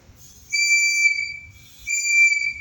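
A life jacket safety whistle gives two shrill, piercing blasts, each about a second long with a short gap between them, loud and close with a faint low rumble underneath.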